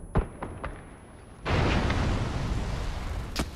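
Explosion in the PUBG battle royale game: a few sharp crackling pops, then a sudden loud blast that erupts into a sustained roaring rumble lasting over two seconds, with another burst near the end.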